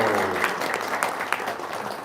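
Audience applause at an Islamic talk, a short burst of moderate clapping from a crowd in a hall, fairly faint and even throughout.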